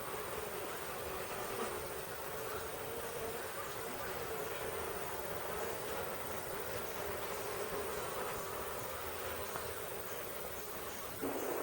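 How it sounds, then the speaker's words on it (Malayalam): A dense, continuous hum of many honeybees buzzing close by, steady and unbroken with no voices. "ആ പിടിക്കുമ്പോൾ ആ ഈച്ച ഒരു പ്രത്യേക ശബ്ദം പുറപ്പെടുവിക്കും"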